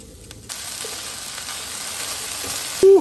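Mince, onion and garlic fry in a pan with a constant, moderately loud sizzle that starts abruptly and holds steady. A brief tonal beep cuts in near the end, and no voice is heard.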